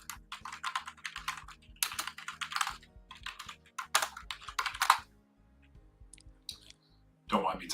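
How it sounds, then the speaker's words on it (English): Rapid clicking keystrokes on a computer keyboard as notes are typed during a Gundam card game webcam tournament, a busy irregular clatter with brief pauses, close and moderately loud, with a short burst of speech near the end. "Don't mind me typing out some notes for my judges too in the judge chat for tonight"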